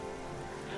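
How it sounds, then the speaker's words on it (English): Steady rain falls in a game world, a soft continuous hiss and patter at low level throughout with no voices. "as you can see, it's raining"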